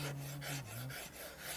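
Rasping strokes of a hand rasp or file carving facets on a maple guitar neck, several quick rhythmic rubs close up and fairly quiet, with no voices.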